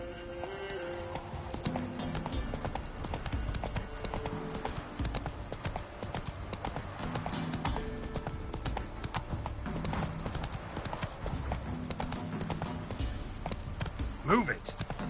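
Hooves of Roach, a horse in The Witcher 3, clip-clop in a steady galloping rhythm throughout, close and loud over game music, with occasional voices from the game.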